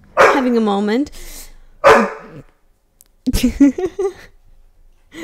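A pet dog barks in a home in a few loud, separate bursts with short silences between them, and no talk is heard alongside.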